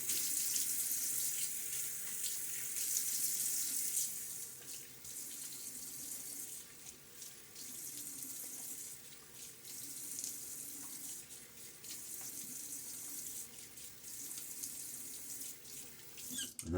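A razor rinsed under a running tap in a sink, a continuous bright hiss of flowing water with brief shifts as the blade passes through the stream, close and alone.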